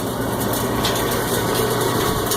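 A Cumberland granulator runs empty with leftover bits from a previous grind rattling inside, giving a steady close mechanical hum with a faint continuous clatter and no voices.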